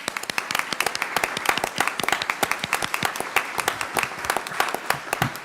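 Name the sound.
audience applause at a school board meeting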